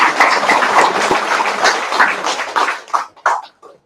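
An audience at an awareness session gives a round of applause, dense clapping at first that thins into a few scattered, separate claps before fading out.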